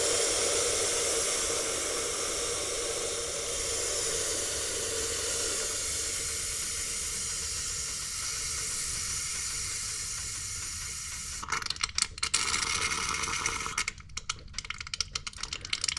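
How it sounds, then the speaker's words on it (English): Pressurized gas hisses steadily out of a Gen-3 ORI race car strut as it is vented. The loud continuous rush turns to sputtering, spitting bursts near the end as the oil foams. "as the pressure is released from the body of the strut, the oil will cavitate and foam"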